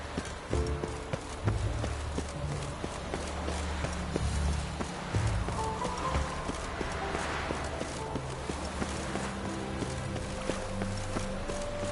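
Horse hooves galloping in The Witcher video game, a steady rapid clip-clop rhythm throughout over a low game music and ambience bed.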